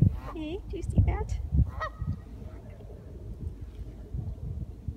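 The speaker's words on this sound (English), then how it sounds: "that goose does not stop honking. It is just up on the roof honking." A Canada goose up on a house roof honking, several loud close honks in quick succession at the start, then quieter background noise.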